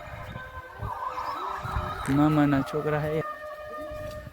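A peacock calls at Osam Hill near Patanvav in a drawn-out wailing cry, heard under ongoing talk and outdoor background noise.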